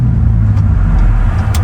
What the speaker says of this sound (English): Maserati. Yeah, I'm driving in sports mode.